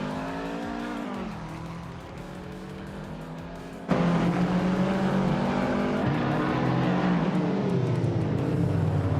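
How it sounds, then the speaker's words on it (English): BMW Z8 (2000) race car in a video game race, engine droning with harmonic whine, shifting gears and then surging louder with tire noise as it pushes on, continuous and close. "Derek Official is driving a 2000 BMW Z8, a sleek and stylish choice"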